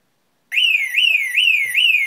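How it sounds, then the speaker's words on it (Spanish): Security alarm system siren, a DSC panel, starts abruptly after half a second of silence and wails loudly and steadily in rapid repeating upward sweeps, each about half a second long, partly covered by hand. "Voy a tapar la sirena porque esto va a sonar."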